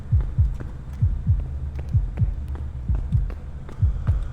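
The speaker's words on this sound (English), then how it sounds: "I hear thumping. That means my heartbeat is going." In the horror game Forewarned, a heartbeat thumps in steady paired beats, low and muffled, repeating evenly with faint ambient hum beneath and no talking.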